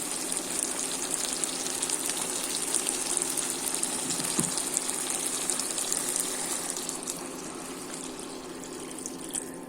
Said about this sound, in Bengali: এবার আমি একটি বাটিতে গরম জল করে রেখে দিয়েছি, এই গরম জলটা আমি ঢেলে দেবো।